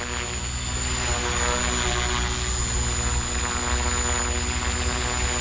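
An Align T-Rex 300X RC helicopter spins its rotor at about 65% throttle, a loud, steady, high-pitched whine and whir heard up close with no letup.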